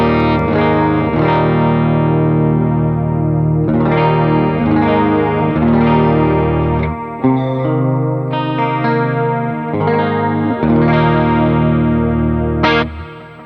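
An electric guitar played through an AC30 amp patch on an HX Stomp, for praise and worship, rings out loud with wide chorus-like shimmer and slight grit, chords strummed and sustained in steady succession.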